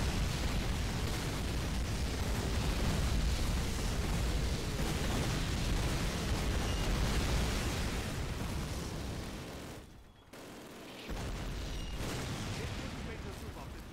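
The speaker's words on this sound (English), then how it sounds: "Ah, the tank is shooting me." A tank fires at the player in Call of Duty, with dense, roaring explosive blasts and rumbling battle noise that fill the scene. A brief near-silent gap follows before the heavy din resumes.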